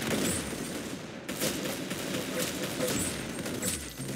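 Rapid gunfire in a shooter video game, a dense spray of shots running through the whole stretch at steady loudness, with a brief cut near the start.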